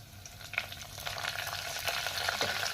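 Cumin, stone flower and curry leaves crackle in hot oil as a tempering for kadhi with cloves, a steady bright sizzle with sharper pops and spits, close and alone.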